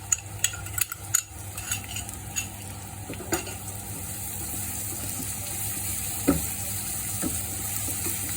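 A blended chili, garlic and ginger mix hits a hot pan for Bombay potatoes, giving a steady close sizzle with a few sharp clinks and stirring knocks near the start, no talking.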